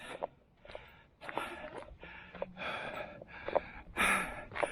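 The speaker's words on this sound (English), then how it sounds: "That's obviously her breathing." A woman pausing on an uphill walk breathes heavily in quick, close gasps and exhalations, fairly faint, with rustling in between.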